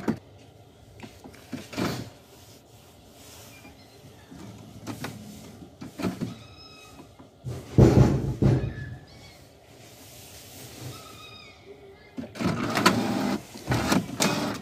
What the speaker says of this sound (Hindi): और देखिए प्रिंट आ रहा है मेरा निकल कर।